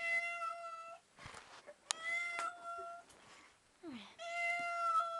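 A cat meows repeatedly in drawn-out, plaintive cries, with brief quieter gaps and some handling noise between calls.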